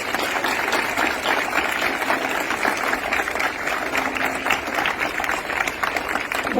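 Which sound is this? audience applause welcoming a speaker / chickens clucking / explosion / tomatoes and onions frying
audience applause welcoming a speaker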